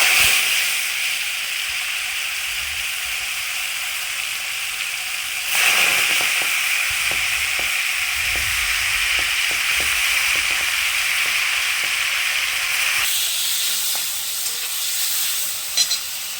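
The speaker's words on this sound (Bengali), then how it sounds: "সর্ষেটাকে একটু তেলের মধ্যে থেতে নিলাম" Mustard seeds and panch phoron fry in oil with a loud, close, continuous sizzle and hiss, broken by scattered crackling pops and a brief surge partway through, with no talking.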